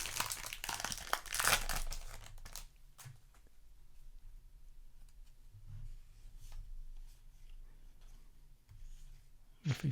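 A Yu-Gi-Oh! Battles of Legend: Monster Mayhem foil card pack is torn open with bursts of sharp crinkling close by, followed by softer rustling and shuffling of the wrapper and cards.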